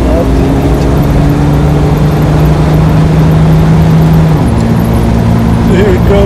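Steady engine drone from a 1969 Jaguar E-Type 2+2 automatic while driving, a smooth continuous hum heard from inside the car that shifts pitch partway through as it accelerates.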